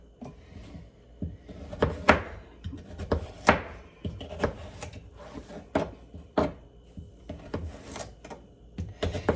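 A knife chopping root vegetables for elk stew on a cutting board, a dozen or so sharp knocks at an irregular pace, close and clear with no talk.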